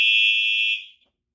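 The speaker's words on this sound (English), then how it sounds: "The detector keeps going back into alarm because it keeps sensing smoke." A fire alarm set off by a duct smoke detector sounds as a loud, steady high-pitched electronic tone that holds for under a second and then cuts off abruptly.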